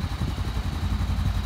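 2018 Honda CBR400R NC47 motorcycle fitted with a Technical Sports muffler, its exhaust giving a steady low throbbing burble close by for a brief moment, with no voices.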